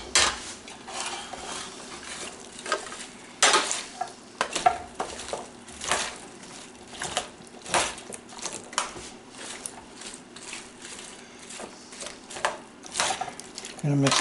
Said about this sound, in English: I'm going to mix everything up.